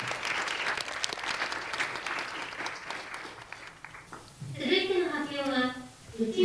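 Audience applause for someone speaker at a children's peace summit, a few seconds of crowd clapping at moderate volume, then dying away as a voice begins talking.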